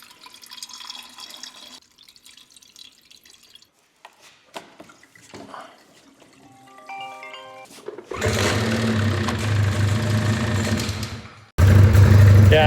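A Ski-Doo 175 turbo snowmobile engine is cranked repeatedly without catching, with faint clicks and rattles followed by a loud, steady starter churn that cuts off and then surges again near the end.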